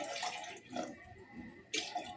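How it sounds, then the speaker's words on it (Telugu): Hot water is poured into sorghum flour for dough, a few faint splashing and trickling bursts with brief pauses between them, no speech. "ఇక నీళ్ళు పెట్టుకుంటున్నా, వేడి నీళ్ళు"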